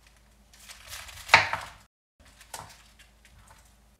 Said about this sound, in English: the last one is the cabbage, and this is pretty simple. We first cut off the core part.